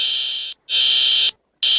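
A national emergency alert tone, a loud steady electronic pitch sounding in long blasts separated by short silences, heard alone without speech.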